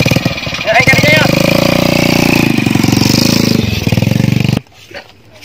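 An old motorcycle engine sputters and idles loudly up close for several seconds with an uneven, chugging rhythm, then cuts out abruptly, leaving quiet background noise.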